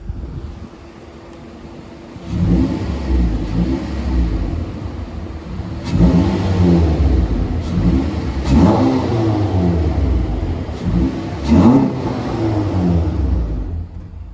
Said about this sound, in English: let's see if you can hear the intake.